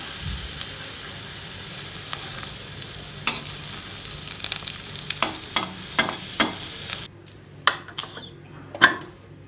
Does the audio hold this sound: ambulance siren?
no